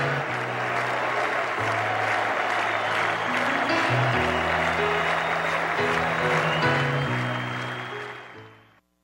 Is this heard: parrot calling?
no